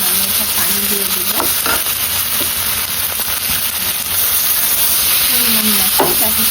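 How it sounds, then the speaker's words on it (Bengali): Ingredients for taki fish bhorta fry in a pan with a steady, dense sizzle and occasional stirring scrapes that continue throughout. "এখানে আমার এগুলো ভাজা ভাজা হয়ে গেছে, এখন আমি এটা পানি দিয়ে দিব"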